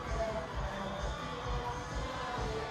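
Naitasiri supporters at a Skipper Cup rugby final against Tailevu make a steady crowd roar with scattered shouts, continuous and fairly even throughout, with commentary faintly underneath.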